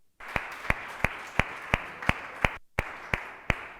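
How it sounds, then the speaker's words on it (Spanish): Rhythmic, evenly spaced handclaps ring out in a church, roughly ten sharp beats in unison over a steady background hum, with one brief drop-out near the end. "Denle un aplauso a Jesús que está resucitado"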